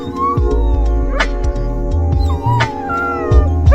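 Small pet dogs howling and whimpering in thin, high, wavering cries, close and steady over a low continuous hum, with a few short yips.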